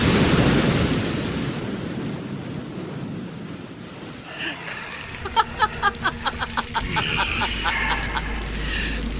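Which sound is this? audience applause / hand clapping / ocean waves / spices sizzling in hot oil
ocean waves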